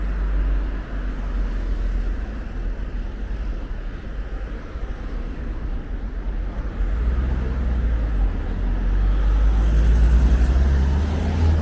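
Road traffic passing by a riverside road near an old bridge in Navan, Ireland, heard as a steady, loud low rumble that swells gradually toward the end, with no talking.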